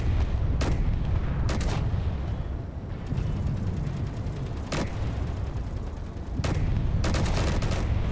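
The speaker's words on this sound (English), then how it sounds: "come on, get out that Gatling gun." Gatling gun fire in Space Engineers, a continuous heavy rattling roar over a deep rumble, broken by several sharp, loud blasts, with no voices.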